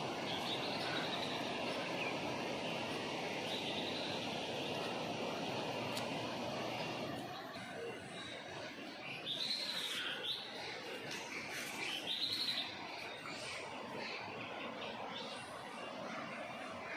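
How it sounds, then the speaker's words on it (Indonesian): Faint bird chirps and tweets scattered over a steady outdoor wash of rushing water at the Grojogan Sewu waterfall in Tawangmangu, Indonesia, with a few brighter calls toward the middle. "Suara berkicauan burung masih banyak ya."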